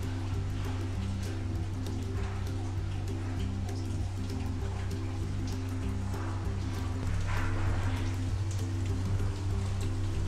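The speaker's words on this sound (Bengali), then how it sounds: "এখন তেলটা গরম হয়ে গেছে আমার, আমি এখন এগুলো দিয়ে দিব।" Potato and flour snacks fry in hot oil over medium-low heat, giving a steady, close crackling sizzle throughout with a low background hum.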